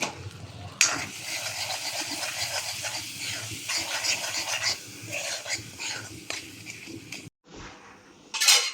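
Spices with salt and chilli powder are stirred and fried in a pan, a steady close scraping and rasping over a soft sizzle, broken by a brief pause and a sharper clatter near the end.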